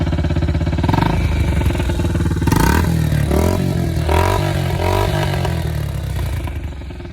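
A Yamaha TTR90 dirt bike engine, just rebuilt at the top end, runs loudly and close up, its uneven idle rising into several revs with rattly mechanical clatter, no voices over it.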